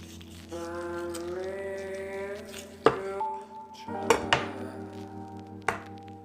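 A knife cutting through the wing joint of a rotisserie chicken, with a few sharp cracks and thuds against a board over a steady background tone.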